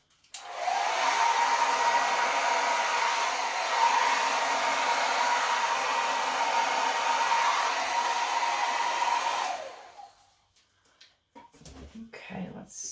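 A hair dryer blows steadily on an acrylic pour painting for about nine seconds, a loud continuous whooshing roar that cuts off abruptly, followed by faint handling noises.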